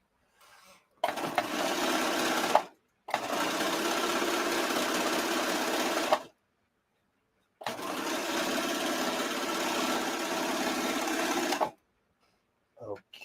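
A serger sewing machine runs in two long, steady bursts separated by short pauses. The motor whirr is close and loud, with a few faint clicks at the start and end and no voices over it.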